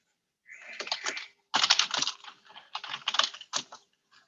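Typing on a computer keyboard, close and clear clusters of quick key clacks in several bursts separated by short pauses, with no talking.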